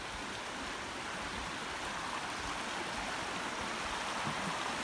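A river rushes steadily alongside a summer hiking trail near Gorham, New Hampshire, a continuous broadband wash of flowing water heard close and even throughout, with no voices.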